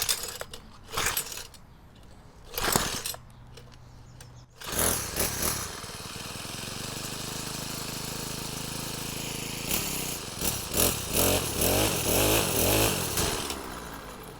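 Troy Bilt 4-cycle weed eater engine sputtering through a few short starting pulls, then catching and running rough and unsteady, revving up and down close by before it wavers.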